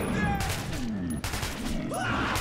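Dense, rapid gunfire rattles in Metro 2033 Redux as shots overlap without pause in a continuous loud fusillade, with shouted voices mixed into the chaos.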